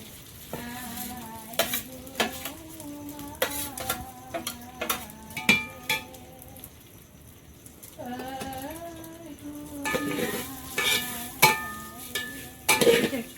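Rice for basanti polao is stirred and fried in a pan, with repeated scraping strokes and sizzling in bursts under a wavering tonal hum.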